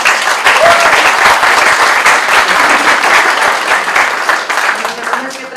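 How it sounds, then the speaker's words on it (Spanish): A crowd at a lecture on criminal procedure claps loudly and continuously, a dense sustained round of applause that fades slightly near the end. "Entonces le damos un fuerte aplauso."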